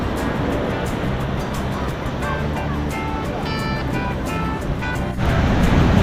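Ocean surf rolls onto a beach in Sri Lanka, a steady broadband wash that swells louder near the end, with faint tonal voices or distant sounds mixed into the continuous roar.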